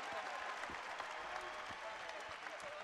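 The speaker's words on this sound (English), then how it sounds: "they get a standing ovation from the crowd" Sustained applause and cheering from a basketball crowd on its feet in a college arena, dense steady clapping throughout with a commentator talking over it.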